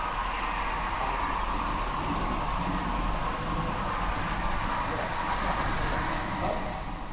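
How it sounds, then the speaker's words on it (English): Model railway locomotive running around a layout hauling LNER coaches, with a steady rolling rumble and soft clicking over track joints, continuous and fairly close. "Just follow this loco round."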